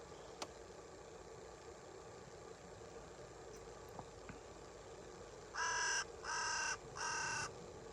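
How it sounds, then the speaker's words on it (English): A crow at Bordeaux Harbour, Guernsey, gives three loud, harsh caws in quick succession near the end, standing out over steady ambient harbour noise with a faint engine hum. "Oh, that crow's making a loud noise. I think it's a crow."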